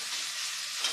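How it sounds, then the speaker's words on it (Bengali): Chopped onion, garlic and ginger-garlic paste fry in oil with a brief, close, steady sizzle and hiss. "তেল দিয়ে দিয়েছি, পেঁয়াজ কুচি আর রসুন, আদা রসুন পেস্ট দিয়ে দিলাম"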